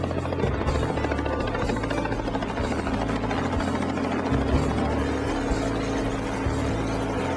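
A helicopter's rotor and engine drone continuously in Alaska, a loud, steady thrumming roar with no voices.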